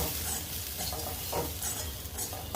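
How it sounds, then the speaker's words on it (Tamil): Dried peas sundal being stirred in a pan with sundal powder: brisk, close scraping strokes of a spoon against the pan over a faint sizzle, in quick repeated bursts. "இப்போ இதில் சுண்டல் பொடி சேர்த்துக்கிறேங்க நல்லா கலந்து விட்டுக்கலாம்"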